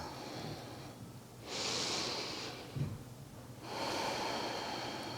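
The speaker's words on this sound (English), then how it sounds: "Start to take a few deep breaths." Slow, deep breaths drawn in and let out, each one a soft rushing hiss lasting about a second. They come close and alone against quiet background hum, with a small snort-like sniff between them.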